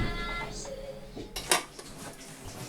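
Cutlery and dishes set out on a table in a small basement family home: scattered light clinks and a sharp clatter near the middle, with faint background noise between them.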